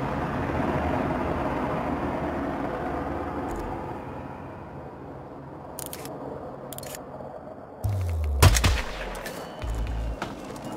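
Gunfire in the stealth game Hitman 2: a few sharp, clicking shots crack out, then a louder, heavier shot lands near the end over a low ambient hum.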